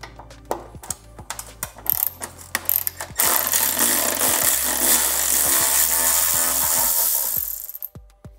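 Ratchet working a 4mm bolt on an Indian motorcycle handlebar: a few separate close clicks, then a fast continuous ratcheting run for several seconds that stops abruptly near the end.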